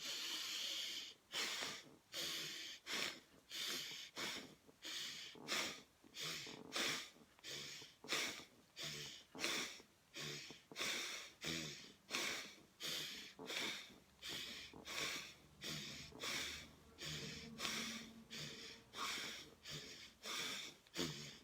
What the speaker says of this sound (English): This is your last round. So breathing in.